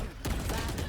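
Gunfire in Valorant during a college esports match: a sharp shot lands after a quiet moment, followed by a short dense burst of rapid shots, close and loud.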